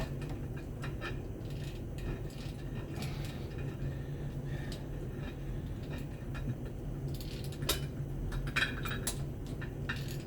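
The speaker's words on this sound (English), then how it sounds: "We're going to work that one down with our ratchet." Ratchet working bolts down on a Mercruiser 454 exhaust riser of a Baja boat engine, heard as steady mechanical clicking and creaking close by, continuous with no speech.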